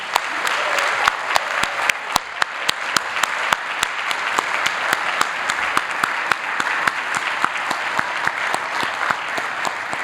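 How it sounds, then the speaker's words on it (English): Graduates at a Columbia Business School MBA recognition ceremony give a dense, steady round of applause for about ten seconds, many hands clapping together with a few sharper claps standing out and no talking. "Give yourselves another round of applause."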